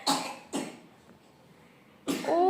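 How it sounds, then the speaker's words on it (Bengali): A person coughs nearby: two sharp coughs a half second apart, a quiet pause, then a third cough running into a rough throaty sound at the end. "ও রে কি কাশি আছে পাপা?"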